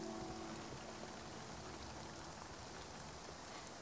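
Continuous rain in the game Spiritfarer, a steady hiss of drops pattering on surfaces, even and unbroken, heard alone with faint background music.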